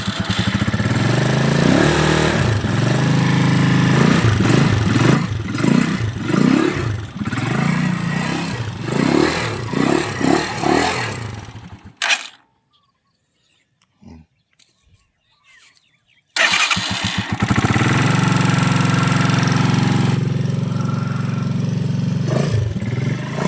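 A Rusi 150 motorcycle engine runs loud and close with a rough, throbbing idle and small revs. It cuts out into a few seconds of near silence, then starts again and settles back to a steady idle.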